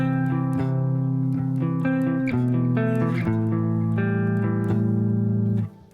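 Heavily distorted modern metal guitar chords ring loud and sustained, changing several times with picked accents before cutting off at the end.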